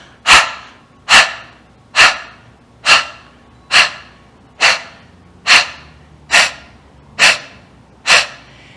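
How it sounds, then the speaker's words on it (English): Rhythmic dog-like panting breaths forced out through the mouth during a morning core exercise class, about ten sharp, evenly spaced exhales, close and loud, with no talking. "like a dog, you're panting out of the mouth."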